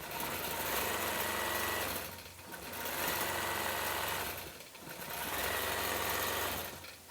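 Sewing machine quilting a Halloween bat appliqué onto fabric, a steady close mechanical whir that runs nearly nonstop, easing briefly twice before picking back up.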